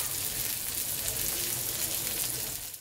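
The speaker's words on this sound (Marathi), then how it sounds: "बऱ्यापैकी आपली मच्छी ती आता फ्राय झालेली आहे एका बाजूने" Fish sizzles steadily in a hot pan with oil, a dense, close frying hiss that holds level throughout.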